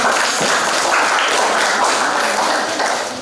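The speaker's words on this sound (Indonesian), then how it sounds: "kita berikan tepuk tangan yang meriah kepada Bapak Sofian Henry" Loud, dense applause from an audience at an Indonesian regional council member's community meeting, a continuous clatter of many hands that swells then tapers slightly at the end.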